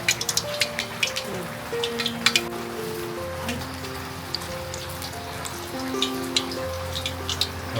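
Steady rain falls outside a home in rural Konkan, a soft continuous patter with scattered drips, while faint background tones and a hum sit underneath; no one speaks.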